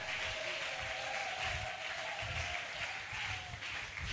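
A church congregation at a prophetic summit applauds and cheers in acclaim of Jesus, a broad wash of clapping and voices filling the room for the whole span.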